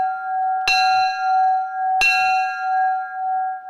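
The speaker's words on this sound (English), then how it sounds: "the only time this bell can be rung is when a Tyee has been registered with the club" Two loud strikes of the Tyee club bell in Campbell River, rung for a registered salmon, about a second apart; each rings out brightly and decays over a steady background tone.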